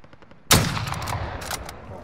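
A loud burst of gunfire erupts abruptly in a battle royale video game, followed by a sustained rattling crackle of rapid shots that gradually fades.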